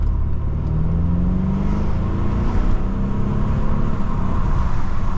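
A BMW in sport mode accelerates hard with the window rolled down, its close engine note climbing steadily in pitch over a dense rumble of road and wind noise, with no speech.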